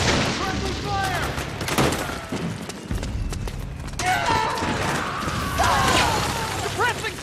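Gunfire in Metal Gear Solid 4 on PlayStation 3: bursts of shots and impacts crackle through a busy battle mix, with voices shouting over the fighting throughout.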